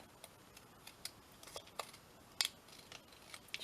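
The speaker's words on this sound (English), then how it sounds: "Just mark it and then cut that off" Scissors snip a piece off a tri-fold notebook, giving soft, scattered cutting clicks and crisp paper sounds, close but faint, with one slightly sharper snip midway.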